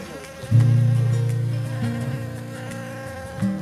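Close, steady buzzing of bees pollinating saffron flowers, droning loudly with a low hum that wavers slightly in pitch.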